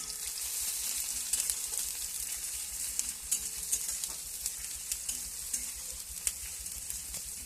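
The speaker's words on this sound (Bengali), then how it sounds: "পেঁয়াজ কুচিটা ভাজা হোক।" Chopped onions fry in a pan of oil for a malai curry, a steady, fairly soft sizzle with scattered small crackles and pops throughout, no voices.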